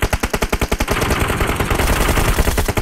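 Automatic gunfire in the PUBG Mobile battle royale game, a rapid, evenly spaced burst of loud shots that runs on into dense, sustained firing for about three seconds, close and alone without speech.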